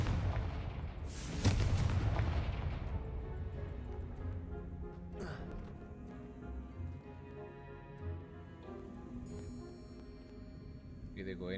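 Confringo blasting spell in Hogwarts Legacy gameplay, a heavy booming explosion near the start that decays into a long rumbling tail with scattered game effects, with a voice talking over it.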